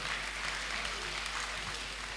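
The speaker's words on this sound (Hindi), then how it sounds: "तालियां जबरदस्त होनी चाहिए" Steady, dense applause from a large audience at a poetry recital gathering, sustained and fairly distant, without pauses.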